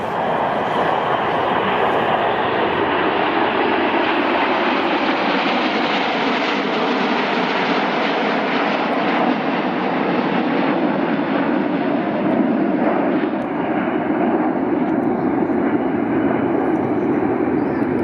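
Jet roar from a Red Arrows BAE Hawk during a flying display at RIAT 2024, a loud, continuous broadband rush that swells and sustains for the whole stretch, heard from the ground with no speech.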